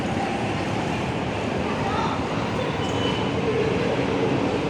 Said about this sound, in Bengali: এটা একটা ট্রেন স্টেশনের পাশে